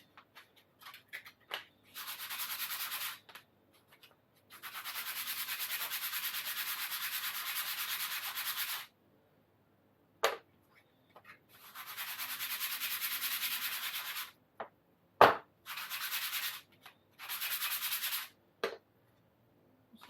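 A sanding block rubs back and forth over a surface in rhythmic bursts of dry scratching, loud and close, with short silent pauses and a few knocks between strokes.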